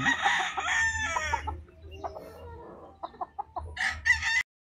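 A gamecock stag on a game farm in San Pablo, Laguna crows loudly and close, two full crows bracketing a stretch of softer clucks and calls.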